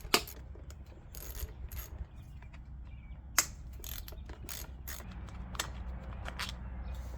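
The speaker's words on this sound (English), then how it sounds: "This takes 10mm socket. Just loosen this up." A ratchet fitted with a 10mm socket loosening a part on a lawn mower, giving quick close clicking bursts and a few metallic knocks over about seven seconds, with no talking.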